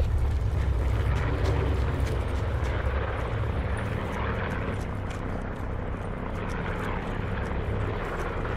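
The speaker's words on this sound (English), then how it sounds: "How do we miss that helicopter flying now?" A helicopter flies overhead in the video game Call of Duty Black Ops 4 Blackout, a steady, heavy rotor-and-engine drone that stays loud and even throughout.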